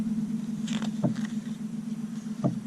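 A door creaks twice as a sound effect in a read-aloud Persian folktale, two short distinct creaks over a steady low hum, with no talking.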